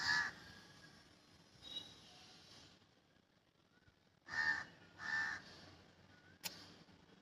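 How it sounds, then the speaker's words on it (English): A crow caws outdoors beside a driveway with a parked car, a few loud harsh calls coming in separate bursts against quiet background. "here is bird. He is chirping right now."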